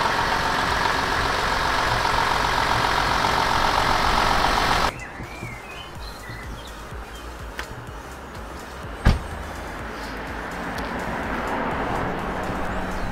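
A VW Touareg engine runs steadily and loudly for about five seconds as the vehicle is moved under a gazebo, then cuts off abruptly, leaving quiet outdoor ambience with a single soft knock.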